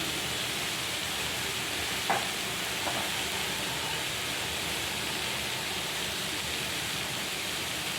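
Salt and turmeric powder sizzle steadily in a hot pan, a continuous soft frying hiss with a couple of faint clinks of a utensil early on, no voices.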